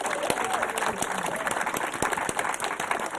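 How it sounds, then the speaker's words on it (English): Audience applause for the filmmakers at a screen talk event, a steady dense wash of clapping with a few voices calling out underneath. "Can we give a big round of applause to our filmmakers?"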